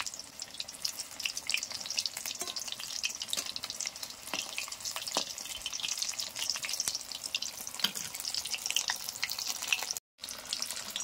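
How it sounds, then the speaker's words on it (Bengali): Chicken pakoda pieces fry in hot oil in a village kitchen, a continuous crackling sizzle with scattered sharper pops, fairly quiet and close, with a brief dropout near the end. "তো এইভাবে উল্টিয়ে উল্টিয়ে ভেজে নিতে হবে।"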